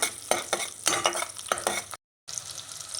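Small shallots sauté in butter while being stirred, with rhythmic scraping strokes over a soft sizzle, close and clear, interrupted by a brief cut to silence.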